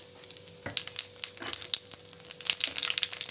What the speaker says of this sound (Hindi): तो तेल गरम हो चुका है, हम इसमें अभी जीरे का छौंक लगा देंगे।